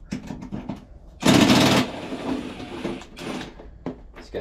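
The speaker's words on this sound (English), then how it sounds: "It's gonna be 3/8, it looks like, for these two bolts to get the tank off." A 3/8 wrench working the fuel-tank bolts on a Poulan rider mower makes close metallic ratcheting clicks, then a short, loud, harsh mechanical burst before the clicking resumes.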